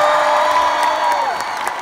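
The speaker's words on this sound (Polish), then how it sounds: "zróbcie wielkie brawa dla niego" A concert crowd at a show at Torwar in 2017 cheers and applauds loudly in one brief, continuous burst.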